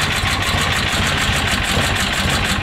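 A Berkut snowmobile engine fitted with a PZ32 carburetor, started hot without choke, runs at a steady loud idle with a dense, even rumble and no talk over it.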